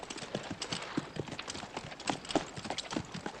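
Several horses' hooves clip-clop in an uneven, overlapping patter of moderately loud steps at a cavalry bivouac in a 1961 western, with no voices over them.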